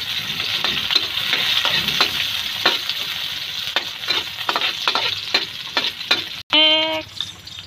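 Onion and celery sautéing in a pan for pancit bihon, a loud continuous sizzle broken by rhythmic stirring scrapes, close up, ending with a brief beep-like tone after a short cut.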